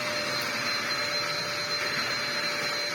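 Dyson DC01 vacuum cleaner running on a rug, a steady close whirring motor drone with broad airy rush and a faint high whine, continuous and even throughout with no talk.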